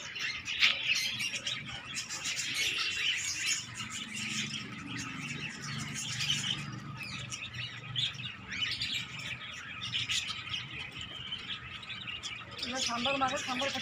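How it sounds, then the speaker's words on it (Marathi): Parrots and other caged birds in an aviary chirp and squawk continuously, a busy overlapping chatter of tweets at moderate distance, with faint human voices mixed in. "यांचा कसा किलबिलाट सुटला आहे।"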